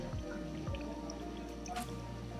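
Chopped potatoes and carrots drop into sizzling spices in a pot while vegetable pulao is cooked, giving a couple of soft wet plops and squishes over a continuous close frying hiss.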